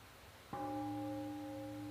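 A mindfulness bell at a family meditation retreat is struck once. It gives a clean, soft strike that rings out in a steady, sustained tone, alone in a quiet room.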